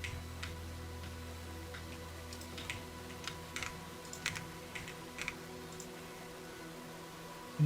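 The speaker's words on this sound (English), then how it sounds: "Hear each and every click of the keyboard." Soft, scattered clicks of computer keyboard keys sound close but faint over a steady electrical hum, with no voices.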